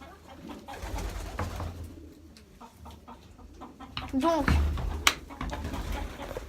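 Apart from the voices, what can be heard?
pigeons cooing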